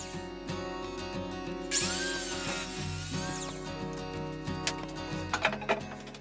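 Wood is sawn to trim the seat section of a Viking-style chair, a steady rasping cut under a humming background with a brighter burst partway through and a few sharper knocks near the end.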